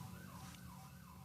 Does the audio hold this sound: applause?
no